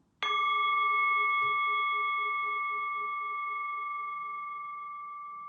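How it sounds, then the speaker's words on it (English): A single meditation bell struck once, ringing out with a clear bright tone that decays slowly and hangs for several seconds in a quiet room. "I'm going to ring the bell"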